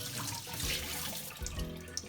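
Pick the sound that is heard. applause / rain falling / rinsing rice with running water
rinsing rice with running water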